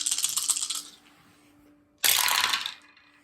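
Dice clatter across a table in a Lands of Galzyr board game session, two loud rattling rolls about a second apart with a quiet pause between, each tumble settling quickly.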